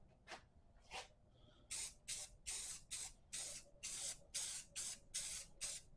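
A spray can lays thin coats of paint on a Ludwig drum pedal during restoration, about a dozen short hissing bursts, two early ones and then a quick regular run, close and clear.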